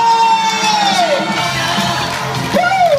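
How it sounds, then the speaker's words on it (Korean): Crowd at a children's daycare festival cheering and whooping with applause, loud and continuous, with rising and falling shouted cheers over a dense background of voices. "여러분 중간 박수와 함성!"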